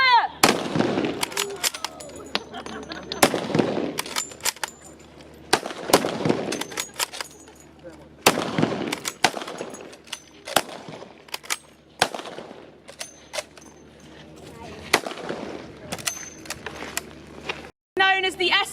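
Several rifle volleys from Lee Enfield SMLE and Kar98K rifles fired together on command, each a loud sharp crack with echo, repeated about eight times at fairly even intervals, with shouted commands between shots.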